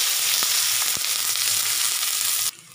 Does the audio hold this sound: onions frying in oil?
yes